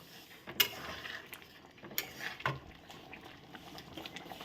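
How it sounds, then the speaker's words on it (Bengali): Green peas being stirred with ghee in a cooking pan on the stove for a homemade dish, with a few sharp clinks of a utensil against the pan over a low, steady sizzle. "ঘিটা দিয়ে দিলাম, দিয়ে একটু নেড়ে দেবো।"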